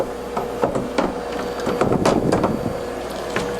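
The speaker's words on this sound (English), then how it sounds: "And now the machine will bring the head back." A Roland VS series printer's head carriage moving back into position, heard as clunky mechanical knocks and clicks over a steady motor hum, close and moderately loud.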